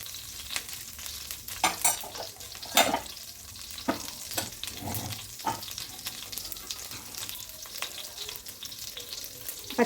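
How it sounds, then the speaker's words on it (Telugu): Cumin seeds fry in hot oil for jeera rice made with leftover rice, giving a steady close crackle and sizzle with sharp pops and occasional stirring scrapes throughout. "ఇంకా జీలకర్ర సాజీరా ఫ్రై అయిపోయిందండి"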